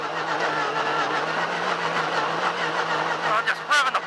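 A Yamaha YXZ1000R SS side-by-side drives off-road, its engine holding a steady, close drone with a voice talking over it and a brief rise near the end.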